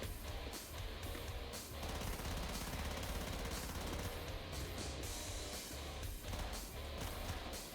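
Gunfire from the video game Killing Floor, rapid sustained bursts of shots mixed with explosive blasts, dense and continuous but fairly quiet overall.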